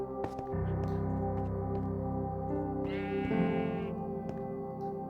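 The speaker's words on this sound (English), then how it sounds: "we have a bunch of sheep running around in here" Sheep in a video game bleat with a wavering, echoing cry, a few short calls over a steady droning game tone, the loudest bleat coming near the middle.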